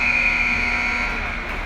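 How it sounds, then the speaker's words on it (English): A game-ending buzzer sounds at a hockey arena in Calgary, a loud, sustained electronic tone holding steady throughout the clip amid the arena's background din. "And so the buzzer goes."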